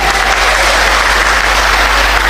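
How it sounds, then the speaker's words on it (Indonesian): A church congregation claps for the women in kebaya during a sermon, loud, dense applause close by that holds steady from start to finish, with a low hum beneath. "Tepuk tangan dong untuk ini ibu."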